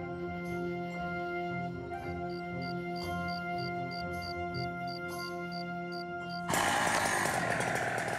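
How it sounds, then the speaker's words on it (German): Chainsaw starting up loudly near the end after a steady mechanical drone, used to clear rotten branches from paths in the Lainzer Tiergarten forest in Vienna. "Im Lainzer Tiergarten werden Kettensägen nur dann angeworfen, wenn es gilt, Wege vor morschen Ästen zu sichern"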